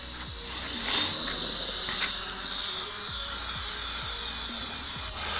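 A Hubsan H216A drone lifts off in automatic takeoff, its motors rising into a steady high-pitched whine with a strong buzzing tone that holds loud and close after a brief quieter start, with faint low ticks underneath.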